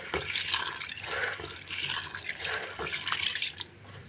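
Washing water is poured and drained off soaked moong dal, a steady splashing, trickling pour running close and fairly loud for about three and a half seconds before tapering away, with no voices.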